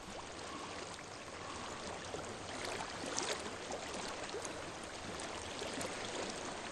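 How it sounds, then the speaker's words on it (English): Water in a flowing stream rushes steadily and evenly in Hellblade: Senua's Sacrifice, a dense, close babble that holds at one level with no voices over it. "I hear water."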